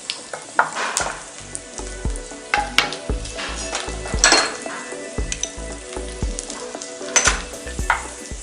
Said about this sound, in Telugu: బాగా వేగుతుంది జస్ట్ ఫ్రై అయ్యాయి ఇప్పుడు మనం చిల్లీ వేసుకుంటున్నాను